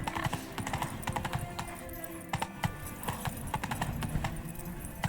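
Roach the horse galloping in The Witcher 3, rapid rhythmic hoofbeats pounding close and continuous, with a brief snort and no speech.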